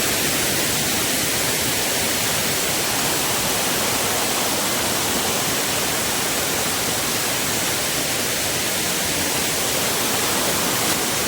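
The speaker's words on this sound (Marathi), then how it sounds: "उंचावरून पडणारा धबधबा खूप छान वाटलं" A waterfall at Bandhtivare near Dapoli plunges from a height, producing a steady, loud, broadband roar of rushing water that holds unbroken throughout with no voices.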